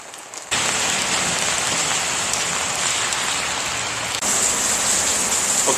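Steady rain falls hard on outdoor surfaces during push-ups, a dense continuous hiss that begins abruptly after a short quieter moment and swells slightly toward the end.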